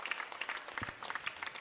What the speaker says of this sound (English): Let's all give applause.